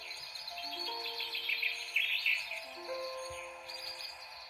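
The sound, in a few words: birds chirping from sound book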